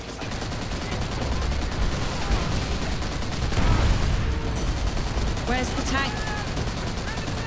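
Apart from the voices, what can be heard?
gunfire in Call of Duty World at War video game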